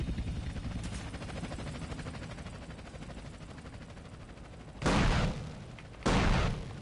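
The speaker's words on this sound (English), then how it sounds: "The helicopter's low and there's nobody here." Low-flying helicopter in GTA San Andreas, a steady rotor thrum with chopping pulses that fades slightly, then two loud bursts of gunfire-like blasts near the end.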